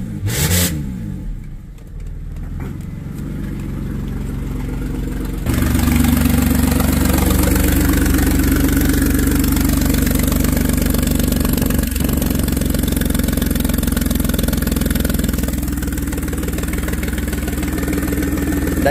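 A car engine with a melted catalytic converter idles loudly through its exhaust, first muffled, then suddenly much louder and steady with a deep throaty rumble, no voices.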